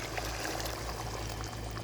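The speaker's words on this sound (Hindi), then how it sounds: "अब मैं इसके ऐड कर दूँगी जो चने की दाल मैंने ऑलरेडी बॉयल करके रखी हुई है, ठीक है। और ये पानी मैं फेंकूँगी नहीं, ये इसके साथ ही इसमें ऐड करूँगी" Boiled chana dal and its cooking water pour steadily into a pot for dal gosht, a continuous close splashing stream with no talk.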